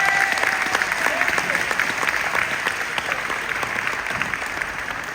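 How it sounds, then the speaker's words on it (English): Audience at a city budget town hall in West Philadelphia breaking into sustained applause, a dense steady patter of clapping lasting several seconds with a few voices faintly mixed in. "Give them a huge round of applause."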